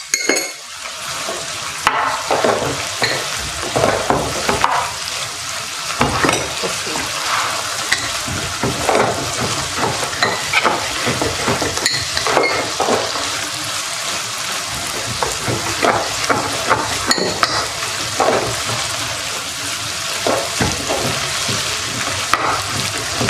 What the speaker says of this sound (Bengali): আমি তেলটা গরম দিয়ে দিয়েছি